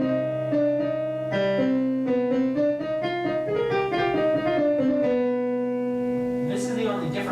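Piano plays a pattern from the Shin Gojira theme, with a low C held beneath a shifting line of repeated notes. The notes stay even and moderately loud, then settle into a sustained ring with a brief extra strike at the end.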